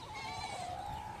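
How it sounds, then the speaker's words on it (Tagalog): A goat on a farm in the early morning gives a single sustained, wavering bleat, faint and steady throughout. "Dito po tayo ngayon sa kambing natin."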